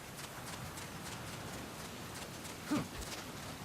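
Running footsteps of a character in Metal Gear Solid: Peace Walker, a steady stream of quick soft steps at an even level, with one slightly louder scuff near the end.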